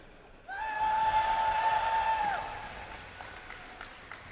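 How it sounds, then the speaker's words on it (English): A large esports event crowd at BlizzCon 2011 breaks into loud cheering and applause with a sustained whistle or shriek, swelling quickly then fading to scattered claps and calls. "And cheer a little bit louder this time."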